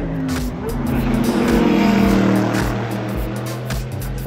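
Race cars at the Nürburgring Nordschleife during the 24-hour race run flat out downhill, loud engines roaring close by and swelling as they pass, with tyre noise.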